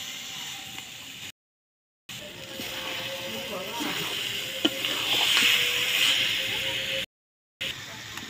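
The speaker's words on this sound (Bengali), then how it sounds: "ভালো করে মিক্সড করে নেব আবারও।" Olive pickle stirred in a pan of hot oil sizzles and hisses steadily, with scraping and small knocks from the stirring, while a person talks over it and the sound cuts out briefly twice.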